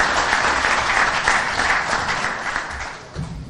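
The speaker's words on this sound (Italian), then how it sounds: "Lo accogliamo con un applauso," Steady audience applause at a football league fixture-calendar presentation, a full hall clapping continuously at moderate volume before tapering slightly near the end.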